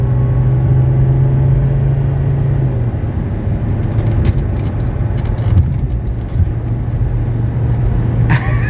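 A 1985 Mercedes 300D diesel car accelerates along a winding road, its engine a loud, steady low rumble with a droning hum that shifts pitch partway through as speed builds, heard from inside the cabin with no talking.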